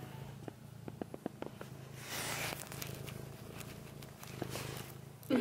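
A cat's soft, low purr rumbles steadily up close, with faint rustling and a few small clicks over it.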